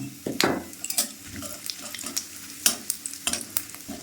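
Whole spices (cumin seeds, bay leaf, crushed cardamom, cloves, cinnamon) being stirred in hot oil: scraping spoon strokes and clatter in an irregular rhythm over a soft, steady sizzle, close by with no talk.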